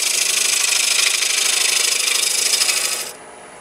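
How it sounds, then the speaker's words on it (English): Roughing gouge cutting into spinning wood on a lathe, a loud, close, continuous rasping hiss with a faint rhythmic pulse that cuts off abruptly near the end, leaving the quieter hum of the lathe. "I'm going to take a roughing gouge and I'm going to just put it in"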